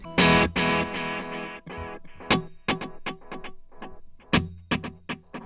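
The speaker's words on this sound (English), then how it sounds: "So you can hear there's 2 delays there." Distorted electric guitar plays a sustained chord, then choppy staccato notes, each followed by echoing repeats from two delays on an Empress Echosystem pedal.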